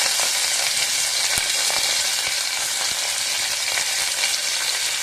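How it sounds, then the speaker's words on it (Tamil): Curry tempering spices fry in hot oil for a snake gourd kootu, giving a steady, close crackling sizzle with scattered sharp pops throughout. "இப்போ இது நல்லா பொரியுது"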